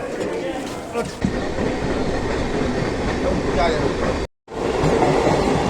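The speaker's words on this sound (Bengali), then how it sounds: "তো আমরা এখন যাবো এই ট্রেনে। তো ট্রেনে চলছে" A passenger train running on rails, heard from inside as a loud, continuous rumble with wheel clatter, broken by a short sudden dropout near the end.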